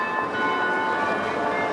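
A clock tower bell in Oslo strikes ten o'clock, its tones ringing steadily over a continuous hum of city ambience, with no pauses between strokes in the short span.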